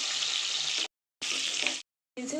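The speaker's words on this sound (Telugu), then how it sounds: "ఆయిల్ కాగినాక ఎర్రగడ్డ వేసుకోవాలి ఎర్రగడ్డలు బ్రౌన్ కలర్లో వచ్చే వరకు వేసుకోవాలి" Chopped onions sizzle and fry in hot oil for a chicken fry, a steady bright hiss broken by two brief silent gaps, close and fairly loud with no talking.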